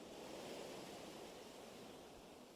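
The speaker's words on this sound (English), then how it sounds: "just to come down and just listen to the waves and everything" Ocean surf washing steadily onto the shore at Milford on a UK sea-fishing beach, a continuous broad roar of breaking waves with no voices.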